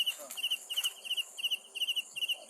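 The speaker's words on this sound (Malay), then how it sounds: "Dia cengkerik besar tu." A large cricket chirps in quick, regular bursts of bright pulses, close and steady, at a paranormal worship site.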